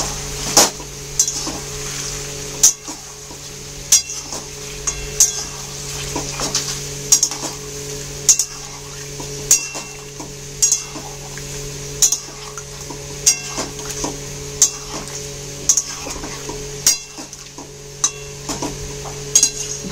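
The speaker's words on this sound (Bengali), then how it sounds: "দই দিয়ে ভালো করে নেড়ে নেব।" Chicken stirred with yogurt in a pan: sharp spoon scrapes and clinks repeat about once a second over a low, continuous sizzle, close and fairly loud.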